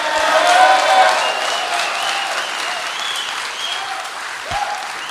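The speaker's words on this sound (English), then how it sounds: "this might just get an applause before we even talk about it" Loud crowd applause from a wrestling audience, sustained clapping and cheering throughout with a few whoops rising over the wash of hands.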